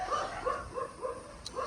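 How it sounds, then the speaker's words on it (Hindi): Several dogs barking repeatedly in a village setting, a steady run of fairly faint, evenly spaced barks heard from some distance with no talk over them. "ये क्यों भौंक रहे हैं?"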